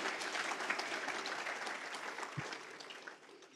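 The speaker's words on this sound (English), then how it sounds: "We can give a round of applause." Quiet, distant applause from an audience at a leadership award event thanking departing board members, a soft wash of clapping that fades slightly toward the end.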